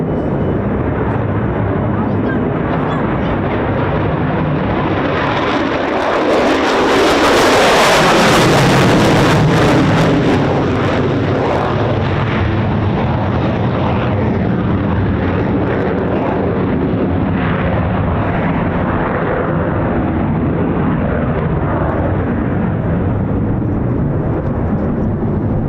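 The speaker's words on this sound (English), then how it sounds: "Those were those were the Norwegian F-35As." Norwegian F-35A fighter jets tear past with a loud, thunderous roar that peaks into a harsh crackling blast and then rumbles away, with voices mixed in under the noise.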